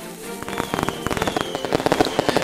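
Fireworks rockets exploding in a rapid barrage, a dense string of sharp crackling bangs and pops accelerating over a couple of seconds, loud and close, with no talk.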